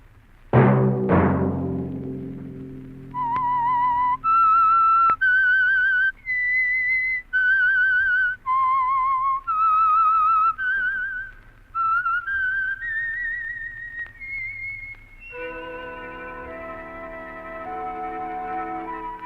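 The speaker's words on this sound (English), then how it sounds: "Let that whistle be your signal for the Signal Oil program, The Whistler" The signature whistled theme of the radio program The Whistler: two loud opening hits, then a clear solo melody of sustained whistled notes in short phrases, ending on a held orchestral chord.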